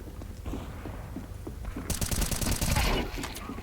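Counter-Strike 2 pistol gunfire: a rapid burst of sharp shots breaks out midway over a steady background hum, close and fairly loud, then fades.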